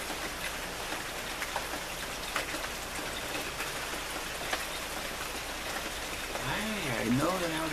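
Raindrops fall in a dense, steady patter close by, filling the scene evenly, with a brief exclaiming voice rising near the end.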